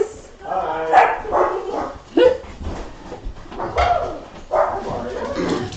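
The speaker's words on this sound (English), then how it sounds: "there's going to be some barking because our friends just came in" Dogs barking and yipping indoors as friends arrive, several loud close barks and whines in uneven bursts, with a person briefly greeting.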